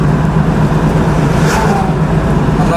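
A 1967 Chevrolet Camaro cruises along the road with a loud, steady engine rumble and tire and road roar heard from inside the car, holding an even drone throughout with no speech.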